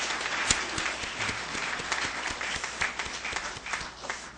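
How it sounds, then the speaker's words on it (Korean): A church audience applauds in a steady, dense wash of many hands clapping, moderately distant and sustained for the whole stretch without speech. "우리 박수로 한번 다시 한번 크게 격려해 주시겠습니까?"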